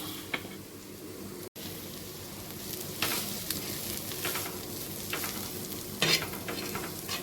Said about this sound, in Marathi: खोबऱ्यालाही असंच त्याच्यासारखं आपण व्यवस्थित थोडंसं लालसर कलर येईपर्यंत भाजायचं आहे